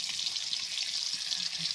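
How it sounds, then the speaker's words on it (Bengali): Pieces of katla fish fry in hot oil in a pan, one side cooking, giving a continuous loud, even sizzle with no voices over it. "তেলটা আসার পর মাছগুলোকে ছেড়ে দিয়েছি। ঠিক আছে, মাছগুলোর এক পাশটা ভাজা হচ্ছে।"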